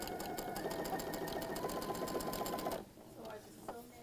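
A sewing machine chain-pieces quilt pieces for a wall hanging in a rapid, steady stitching run for nearly three seconds, then stops abruptly, leaving a quiet room.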